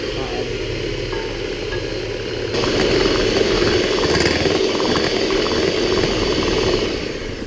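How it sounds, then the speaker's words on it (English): Electric mixer whisking sticky toffee cake batter of eggs, sugar and melted butter until pale, a steady motor whir that steps up in speed partway through and holds as a loud, even drone. "you just need to whisk that until pale and light"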